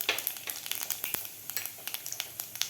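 Cumin seeds crackle in hot oil with mustard seeds already popped, for a tangy amla dal, a steady sizzle broken by many sharp, close spits and pops.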